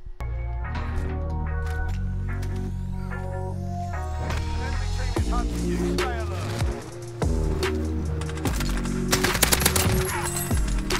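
Rapid gunfire bursts from a Call of Duty: Warzone match, dense and repeated over a steady game background of music and effects, with sharp shots clustering toward the end.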